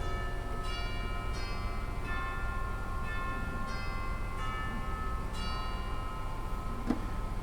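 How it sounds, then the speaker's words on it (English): Tubular chimes percussion stop on a pipe organ ring out in a slow series of bright, sustained bell-like strikes, each decaying over a steady organ drone, with no talking. "and some chimes as well."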